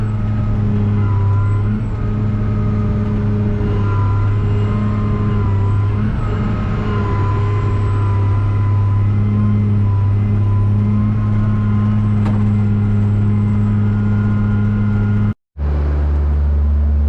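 Case IH Mx270 tractor engine droning steadily while driving home, a loud, close, strongly tonal diesel hum holding nearly constant throughout, broken by one brief cutout near the end before resuming.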